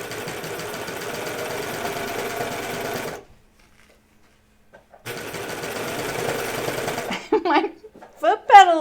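Sewing machine stitching elastic onto the waistband of Hudson pants, running in a steady fast whir for about three seconds, pausing in silence, then resuming before stopping as a voice speaks at the end.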